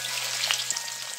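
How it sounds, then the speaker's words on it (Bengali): Thick katla fish cutlets fry in very hot oil turned down to a low flame, a steady, dense sizzle and crackle throughout with no talking. "দুটো দুটো করে ভেজে নিচ্ছি"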